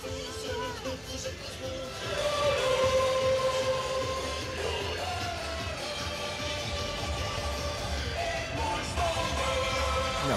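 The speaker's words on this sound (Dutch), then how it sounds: "herkent vast en zeker deze locomotief" Thomas the Train locomotive float rolling in a night-time illuminated carnival parade in Schinveld, 2018, giving a continuous rumbling train-like drone with tonal whistle hints, moderately loud amid crowd noise.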